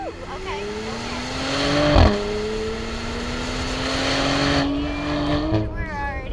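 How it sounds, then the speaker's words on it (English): A Porsche in Sport Plus mode accelerates, its exhaust note climbing steadily through the gears with a brief shift blip, loud and close from inside the car, while people talk over it. "let's go to Sport Plus so you can really, really hear the exhaust."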